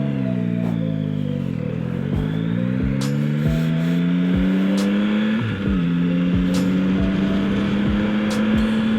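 A Yamaha Tracer 9 GT+ motorcycle on the road: a steady, close engine drone that rises and dips with throttle and gear changes, with wind rushing over it throughout.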